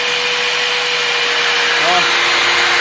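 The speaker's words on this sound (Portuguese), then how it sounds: "Vamos ligar a furadeira junto pra ver" Electric drill running off a 12V to 110V 3000-watt inverter, a constant loud whirring motor drone with a steady hum that holds its speed throughout, with no drop in pitch.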